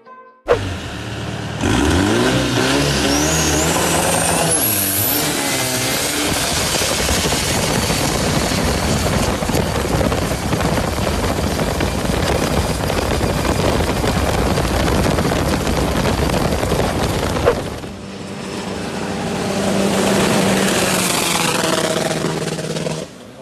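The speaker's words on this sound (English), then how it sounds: "There can only be one fast boat in the river and I'm sure these guys are driving it right now." A fast speedboat races along a river, its engine a loud, sustained roar that climbs in pitch at the start, dips briefly near the end, then surges back, with no voices.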